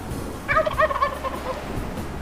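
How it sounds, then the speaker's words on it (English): A Gould's wild turkey gobbler in Mexico gives one loud, rattling gobble at mid distance, a quick burst of warbling notes over a soft outdoor background. "Just a beautiful Mexico Goulds gobbler."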